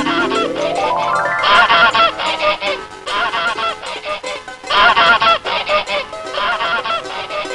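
A cartoon goose honks loudly in an animated children's fable about the goose that laid golden eggs, with repeated honking bursts over musical accompaniment and a rising melodic run at the start.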